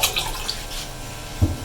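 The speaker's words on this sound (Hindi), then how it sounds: "थोड़ा सा इसमें हम पानी ऐड करेंगे" Water is poured into a bowl of yogurt for sweet dahi balle, a brief, close, splashy trickle lasting under two seconds.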